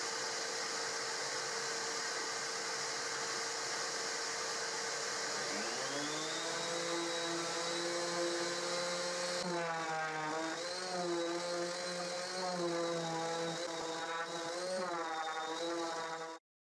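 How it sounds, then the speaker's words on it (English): A power sander works over small wooden parts of a pallet garden chair: a continuous whining motor drone that dips and rises in pitch as pressure shifts, running steadily until it cuts off abruptly. "It is more difficult to sand the small parts"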